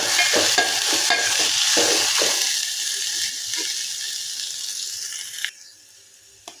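Cashews roasting in a pan with golden-browned onion for a hotel-style matar paneer sabji, a loud sizzle with quick scraping stirs at first, then fading to a quieter hiss before nearly stopping.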